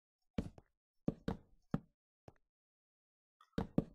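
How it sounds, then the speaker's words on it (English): Wooden planks are placed in the Minecraft video game, giving a few sharp hollow knocks, some in quick pairs, with silence between them. "stick down our planks."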